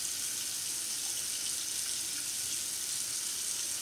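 Tap water runs steadily into a sink during handwashing, a soft continuous hiss at low level with no voices.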